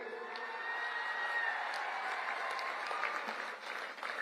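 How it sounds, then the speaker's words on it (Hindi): A crowd at an Amit Shah political rally in Begusarai claps loudly and continuously in sustained applause, with no talking over it. "ये चारों के लिए जोर से ताली बजाओ भाई"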